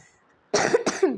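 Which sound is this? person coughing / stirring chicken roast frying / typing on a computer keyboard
person coughing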